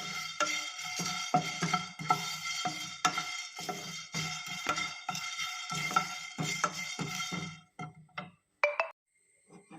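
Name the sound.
black pepper and curry leaves frying in oil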